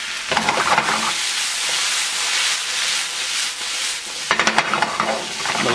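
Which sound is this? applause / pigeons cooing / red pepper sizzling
red pepper sizzling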